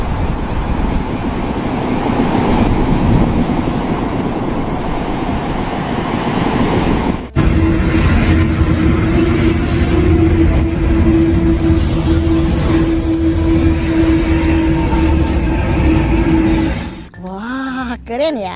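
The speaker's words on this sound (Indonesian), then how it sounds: "Wow, teman-teman, ini kereta api cepat." A toy high-speed train gives off a sustained electronic tone with bright high-pitched beeps after a stretch of rushing, splashing water from the toys being washed; the sounds are close and loud.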